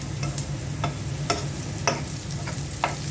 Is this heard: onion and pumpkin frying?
yes